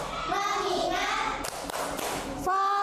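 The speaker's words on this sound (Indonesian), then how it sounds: "tepuk tangan untuk kita semuanya" Children in a classroom clapping their hands in a clap game, several sharp group claps in a row, close and moderately loud, with voices of kids and a teacher around them.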